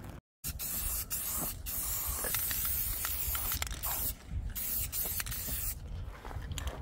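A spray can paints an RV slideout arm in close, loud hissing bursts, nearly continuous with a few short breaks between passes.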